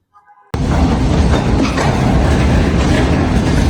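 A loaded goods train rolls through Darshana border railway station, starting abruptly with loud, continuous rumble and clickety-clack of wagons close by.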